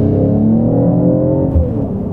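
Mercedes-AMG car engine revving hard, a loud, close, deep engine note with stacked tones that slowly fall as the revs drop, heard alone without talk.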